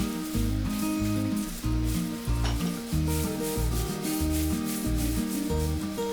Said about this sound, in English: Then dry roast it until it is nice and light brown.